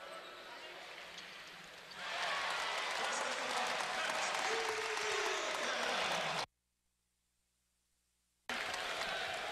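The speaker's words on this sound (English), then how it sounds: "And the crowd erupts as Derek Walton heads back to the bench" Crowd cheering and applauding at a Michigan vs. Wayne State basketball game, a steady roar that swells louder after two seconds, cuts out briefly, then returns.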